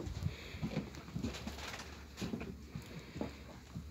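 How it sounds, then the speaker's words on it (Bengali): Pigeons kept alongside rabbits at a farm in Buraidah, Al Qassim, Saudi Arabia, coo softly in repeated low rounded calls, fairly faint against a light background hum. "আবার খরগোশের সাথে কবুতরও রাখছে মাশাআল্লাহ।"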